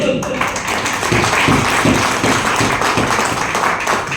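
An audience at a third-anniversary event in Lucknow claps in scattered bursts, the taps coming at a loose rhythm under a speaking voice.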